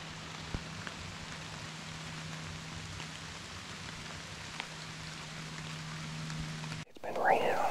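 Rain falls steadily in Michigan woods around a hunting stand, a soft even hiss of drops with faint low hum, ending in a sudden rustle near the microphone.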